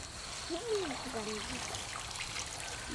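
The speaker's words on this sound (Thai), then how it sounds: "น้ำไหล" Water flows and trickles steadily in an outdoor setting, a soft continuous wash with a brief faint voice near the start.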